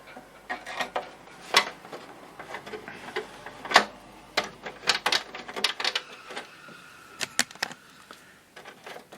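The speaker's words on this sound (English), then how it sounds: "get myself a screwdriver and we'll open this up" Screws being unscrewed from the back of a 1954-55 HMV Little Nipper model 61-51 radio, heard as close, irregular metallic ticks, scrapes and clicks from a screwdriver at work, with no talking.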